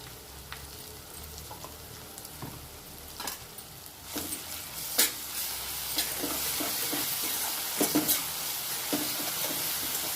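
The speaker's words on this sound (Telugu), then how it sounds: "కొంచెం ఈ కారం పచ్చిమిర్చి కారం కూడా వేగాలి, కొంచెం పచ్చి వాసన పోవాలి." Green chili paste fries with broad beans in a pan, a steady close sizzle and hiss broken by occasional scraping stirs and light pops of the spoon against the pan.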